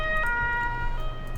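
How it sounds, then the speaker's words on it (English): A wailing video game ambulance siren with steady rising and falling tones, fairly loud over a low engine rumble, continuing throughout without talk. "Do believe I can hear this ambulance arriving now."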